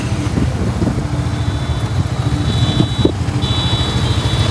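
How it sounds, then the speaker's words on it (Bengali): A group of motorcycles from a rider squad's meet-up pulling away together, engines rumbling steadily up close with a low throbbing drone and a thin whine rising over it, loud and continuous without speech. "এই তো আমরা সব কয়টা বাইক বের হলাম"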